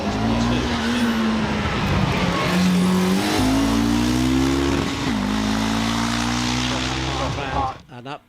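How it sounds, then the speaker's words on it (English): A 1 litre turbocharged Hillman Imp races up a hillclimb course, its engine note rising and dropping through gear changes in a loud, continuous run that fades out at the end. "up to Bunny's Leap on the lower part of the hill goes Eric Morey with his 1 litre turbocharged Hillman Imp"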